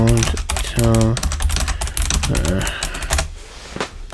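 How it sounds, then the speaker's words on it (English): Rapid clatter of typing on a computer keyboard while coding, loud and close with dense keystroke bursts, mixed with a voice talking over it. "too much typing"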